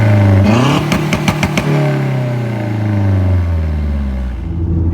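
A Mazdaspeed3 with a catless downpipe and catless test pipe revs loudly up close, with a rising engine note, a quick burst of crackling pops, then a long falling drone back toward idle.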